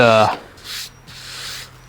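A short hum is followed by two strokes of sandpaper rubbing back and forth across hard clear epoxy resin, close and fairly loud.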